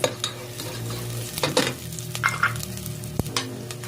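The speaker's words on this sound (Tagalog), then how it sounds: "magigisa na po tayo ng sibuyas" Onions sauté in a pan for Filipino bopis, a close crackling sizzle broken by sharp spatula scrapes and clanks against the pan, with a low hum underneath.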